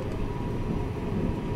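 Sunrise Izumo sleeper train running in the early morning on its way toward Okayama, heard as a steady, unbroken low rumble with no voices over it.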